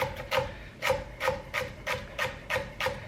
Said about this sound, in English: And then we'll do slices of the celery.